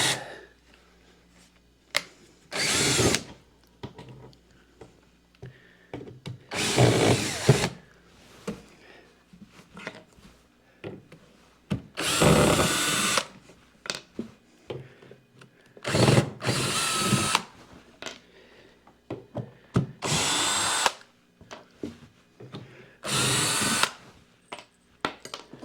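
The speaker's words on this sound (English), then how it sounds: "take the cordless drill and" A cordless drill unscrews the fasteners from a shipping crate in repeated short, loud bursts of whirring, separated by quiet gaps with faint handling clicks.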